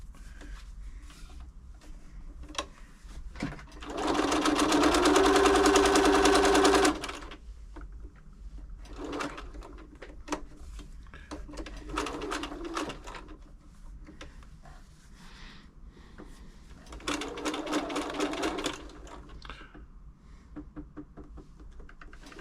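A Bernina B325 sewing machine, freshly serviced and rethreaded, stitches in several bursts: one long, loud run of rapid mechanical chatter, then shorter runs separated by quiet handling noises.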